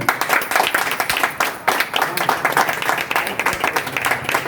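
A crowd at a meeting in Singhpur claps loudly and continuously, with dense, sharp, overlapping hand claps close by and no pause.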